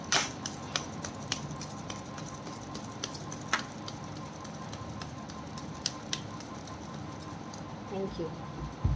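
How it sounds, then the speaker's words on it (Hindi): Tarot cards are shuffled in a rapid run of soft, crisp clicks and flutters that scatter irregularly over a quiet background, close to the listener. "This is my one and last shuffle."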